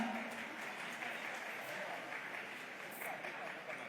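An audience applauding at a government event launching registration for the Yuva Nidhi scheme, a continuous, even wash of many hands clapping from a crowd.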